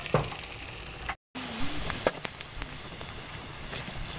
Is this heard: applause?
no